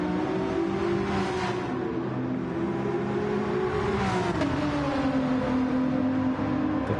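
Race cars in a GT endurance racing video game drone steadily throughout, a continuous loud engine whine with a shift in pitch partway through, with no talk.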